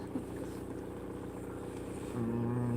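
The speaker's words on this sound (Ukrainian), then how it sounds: "Дуже подобається, гарно працює мотор." An engine runs steadily with a low droning hum, growing a bit louder and deeper near the end, with no talking.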